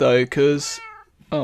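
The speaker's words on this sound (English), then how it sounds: "that's my cat" A pet cat meows close by with short, tonal calls that sit between and under a person's speech, and one call trails off before the talking resumes.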